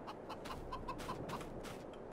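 Chickens in the Farming Simulator 22 video game, a flock giving soft repeated clucks at an irregular pace, fairly quiet over a steady outdoor ambience.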